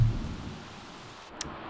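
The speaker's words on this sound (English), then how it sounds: "I love the rain in Seasons, and I love the snow in Seasons so much" Rain and thunder from the weather in The Sims 3 Seasons video game: a low thunder rumble fades at the start into a soft, steady rain hiss, quiet and without voices.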